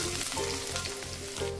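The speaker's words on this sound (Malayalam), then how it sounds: "വെളിച്ചെണ്ണ ചൂടായി വരുന്ന സമയത്ത് ഇതിലേക്ക് മീഡിയം സൈസ് ഒരു സബോള നീളം നുറുക്കിയത് ചേർത്ത് കൊടുക്കാം" Sliced onion hits hot coconut oil for a Kerala brinjal curry, producing a loud, continuous, close-up sizzle with no talking.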